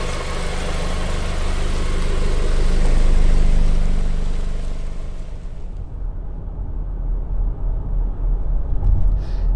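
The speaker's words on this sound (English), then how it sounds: "from the outside, this engine sounds rough" A 2020 Land Rover Discovery Sport engine runs outside the car with a steady, rough, throbbing drone that swells slightly midway and then settles, with no other sounds.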